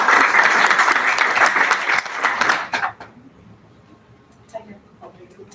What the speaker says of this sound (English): Round of applause for Roxana, please